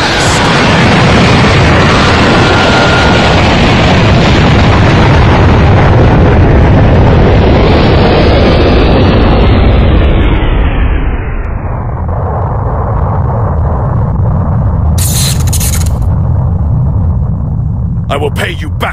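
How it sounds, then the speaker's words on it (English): A loud, sustained roaring explosion from the Chaos Blast attack in a Sonic and Shadow versus Goku and Vegeta battle, rumbling heavily for many seconds before fading into a long whoosh, with brief bright bursts near the end. "Chaos Blast!"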